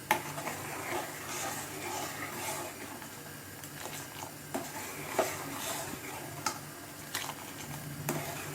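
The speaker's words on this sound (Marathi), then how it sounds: "असं ढवळून घेतलं ना की साखर पटकन मेल्ट होते, म्हणून याला आपण ढवळत राहायचं आहे" A spoon stirs milk and sugar in a pot for sheer khurma, making soft, irregular ticks and scrapes against the metal over a faint simmering hiss.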